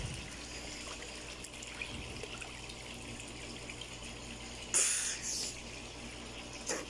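Water trickles and splashes in an outdoor swimming pool where a man is bathing, a steady watery wash with a louder splash burst near the end.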